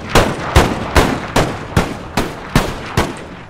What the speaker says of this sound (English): Are they like Gatling guns of some sort? Yeah. Are they firing the right way?